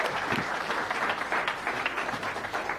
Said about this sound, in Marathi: जोरदार टाळ्या आपण वाजवूया.